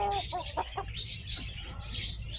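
A purebred white Kelso gamecock rooster clucks in short, close bursts at a game farm, with low background noise throughout.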